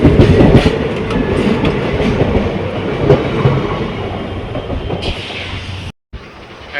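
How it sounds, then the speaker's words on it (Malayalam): Heard from inside a carriage of the 16565 Mangaluru Central to Yesvantpur train, a loud, continuous rumble of running wheels with a rhythmic clickety-clack on the rails, ending in a brief cut. "ട്രെയിൻ യശ്വന്തൂരിലേക്ക് എത്തിരിക്കുകയാണ്"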